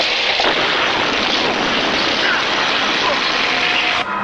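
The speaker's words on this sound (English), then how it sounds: "Thrusters activating now." Spacecraft thrusters fire in a British cult movie trailer, At the Earth's Core, as a loud, continuous, hissing engine roar that holds steady for about four seconds before cutting off abruptly.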